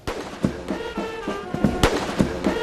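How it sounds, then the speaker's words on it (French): Blank cannon rounds of a 21-gun salute boom outdoors on the forecourt of Jubilee House in Accra, Ghana, during a state welcome. The loud, sharp reports come in quick succession and overlap with their echoes. "21 coups de canon tirés à blanc résonnent depuis le parvis du Jubilee House d'Accra au Ghana."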